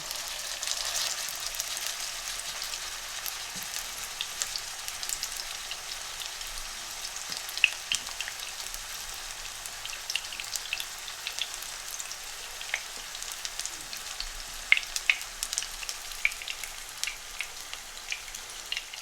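Beef chapli kebabs fry in melted fat with a steady, close sizzle and scattered sharp pops and crackles, continuous throughout with no talking.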